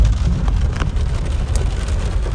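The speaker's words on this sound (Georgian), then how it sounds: "ძალიან მაგრა წვიმს." Heavy rain drums hard and steadily, a dense close wash of noise throughout, as if pouring onto a jeep during a storm.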